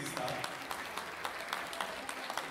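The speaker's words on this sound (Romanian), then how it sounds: "Aș vrea ca toți să aplaudăm socrii mari și socrii mici" Wedding guests in a hall applaud the couple's parents, a steady patter of clapping under a busy room with scattered voices.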